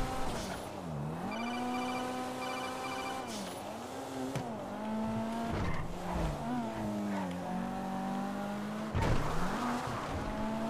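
A car in GTA V revs and drives hard with repeated tire squeals and skids, the engine pitch rising and dropping through gear changes, loud and close with brief talk underneath.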